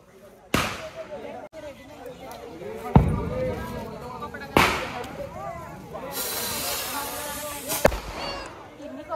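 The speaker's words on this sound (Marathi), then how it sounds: "सगळे जण फटाके वाजवायला" Diwali firecrackers set off outdoors: several sharp, loud bangs spaced a few seconds apart, then a long, bright fuse hiss late on, with voices chatting and calling throughout.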